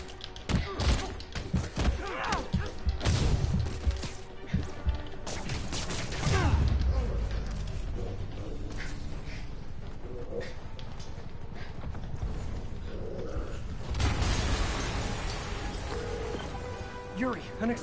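An explosion in the Spider-Man video game, heavy booming thuds and rumbling debris bursts at intervals amid clattering impacts, loud, with voices talking over the action.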